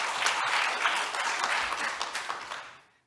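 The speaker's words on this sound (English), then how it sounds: "Can we give him a hand of applause?" An audience at a university colloquium on higher-education language policy gives a presenter a round of applause: dense, sustained clapping from many hands that holds steady for a few seconds and then fades away.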